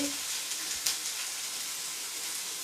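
Pork belly (ventrèche) sizzles and fries in a pan, a steady close hiss of spitting fat that continues without a break and has no talk over it.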